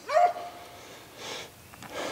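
Hunting dogs bay while chasing a zigzagging, backtracking rabbit, with one loud close bark at the start followed by fainter, more distant yelps and bays.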